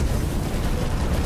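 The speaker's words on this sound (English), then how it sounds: "Cannon shot. Good cannon shot." Cannon shot in Phantom Brigade, a heavy, boomy blast with a deep rumbling body that stays loud and dense throughout, with no talk.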